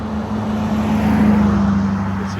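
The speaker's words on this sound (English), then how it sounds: "Sorry about the traffic." Road traffic near the old Cocheco Railway station in Alton, NH: a steady close engine hum with a low tonal drone as a vehicle passes, continuous and fairly loud.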